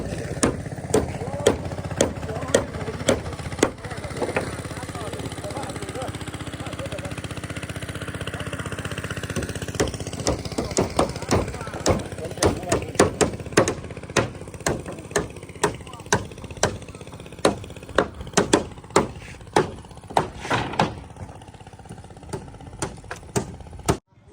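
A machine drives piles for a bamboo bridge: an engine hums under repeated sharp pounding blows that start sparse and grow into a fast, regular series of loud thuds, with voices talking at times.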